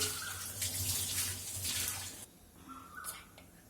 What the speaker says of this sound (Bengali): হাত ধুয়ে নেবো